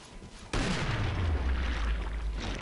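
Killing Floor gunfire erupts as a sudden loud blast followed by a dense, booming rumble of shots and explosions that fills the rest of the moment, close and heavy.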